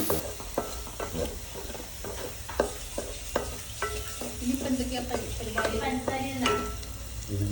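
Three onions stirred and fried in a pan for Kannur-style beef roast, with a soft sizzle under a run of quick spoon scrapes and clacks against the pan.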